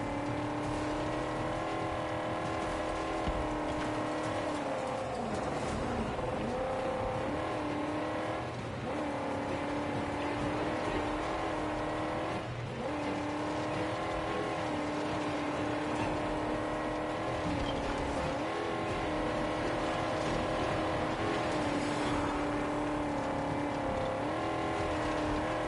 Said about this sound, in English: I got a little shitty dune buggy that won't stay straight